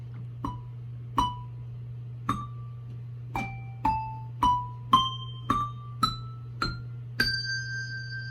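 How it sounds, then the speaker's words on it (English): Handbells struck against a table in martellato style, a series of about eleven separate hits, each a dull thud with a short ringing tone; pitches rise across the run, and the last note is a marked lift with a sustained ring, over a steady low hum. "This is when you hit the bell gently on the table. This creates a thud."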